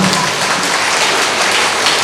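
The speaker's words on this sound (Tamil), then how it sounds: "ஒரு பெரிய கைத்தட்ட கொடுக்கலாம்." A Tamil debate show audience claps steadily and loudly, dense applause filling the whole stretch without pause.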